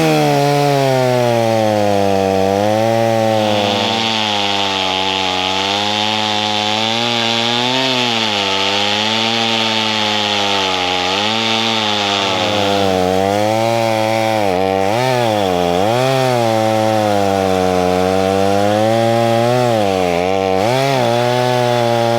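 A Stihl chainsaw, an MS250 or 041 with a muffler mod and a slightly dull chain, cuts through wood with a loud, steady high-pitched engine whine that dips and bogs briefly near the end of the cut.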